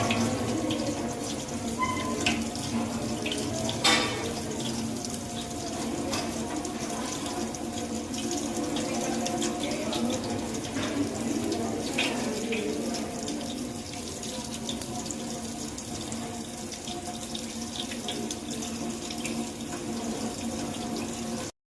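Tap water runs steadily into a sink while a dental model is rinsed under it, a continuous close hiss with occasional splashes and knocks, lasting throughout with only faint voice traces.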